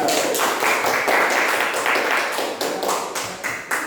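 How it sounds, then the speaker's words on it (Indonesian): Students in a classroom clap for a classmate, a brisk run of hand claps with sharp, rhythmic strikes standing out, fairly close and moderately loud. "kita tepuk tangan untuk kawan yang tadi"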